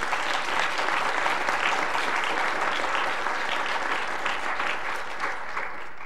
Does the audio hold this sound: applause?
yes